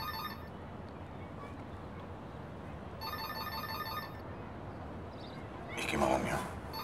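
A telephone rings in bursts in a German crime drama scene, a repeating electronic trill over a steady background hum, with a louder rustling swell near the end.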